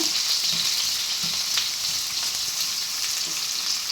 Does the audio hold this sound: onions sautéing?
yes